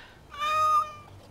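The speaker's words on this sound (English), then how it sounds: "Oh, look at that, a kitten." A kitten meows once in the fantasy role-playing game Dragon Age: Awakening, a short, clear, high-pitched mew lasting under a second over quiet background.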